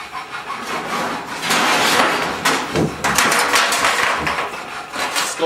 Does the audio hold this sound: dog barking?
no